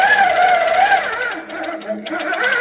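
A sit-down longarm quilting machine stitching steadily at close range, a loud buzzing whir whose pitch drifts up and down with speed and dips briefly near the end, with no talk over it.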